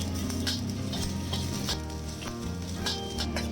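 Minced garlic and shredded scallion sizzling in hot oil in a wok, a continuous close frying hiss with intermittent scraping and clinks of a spatula against the metal.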